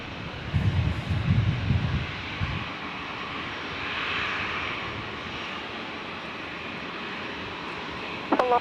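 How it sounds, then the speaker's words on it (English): An Air Nauru airliner at Brisbane Airport gives off a broad, distant jet roar that swells and fades under wind noise, with a few brief louder bumps near the microphone. "So Air Nauru is lining up now, which will be departing any moment now."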